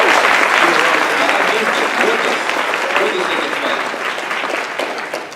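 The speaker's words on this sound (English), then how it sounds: "Give him a round of applause." An audience gives a sustained round of applause welcoming Jeffrey Halston, dense and steady throughout and tapering slightly toward the end.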